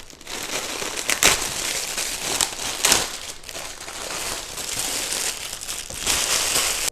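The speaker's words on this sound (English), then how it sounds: "So let's rip it open." Plastic packaging of a wine tote being ripped and crumpled open, a steady close crinkling with a few sharper tearing bursts and no talk.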